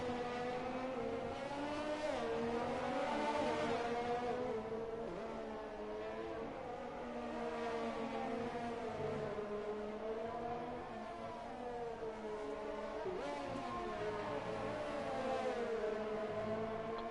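Race cars lap the Hungarian Grand Prix circuit in a GP3 racing video game, their engines whining steadily with pitch rising and falling through gear shifts and corners, a continuous close roar with no talk.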